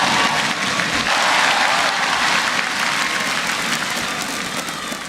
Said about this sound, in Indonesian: tolong tepuk tangan untuk Abdur.